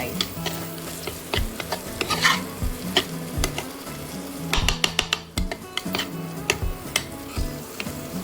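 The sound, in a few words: tomatoes added and stirred into a frying pan for Maggi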